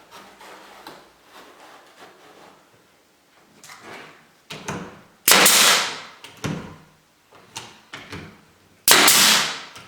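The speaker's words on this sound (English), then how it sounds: "I'm going to use a little bit of wood glue and some brad nails to secure this in" A brad nailer drives nails into the wood of a closet door, several sharp pneumatic bangs scattered irregularly, two of them especially loud, with softer handling knocks and shuffling in between.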